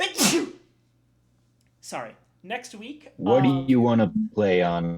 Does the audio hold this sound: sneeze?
yes